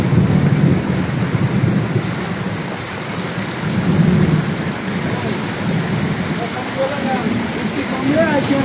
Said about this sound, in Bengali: এই বিজলি মারতেছে আবার বজ্রপাত মারতেছে